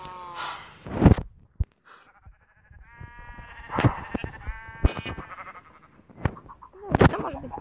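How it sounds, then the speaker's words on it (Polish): Minecraft sheep bleat in a series of loud, wavering calls, several separate bleats spread across the stretch with short pauses between them and no talk. "owce"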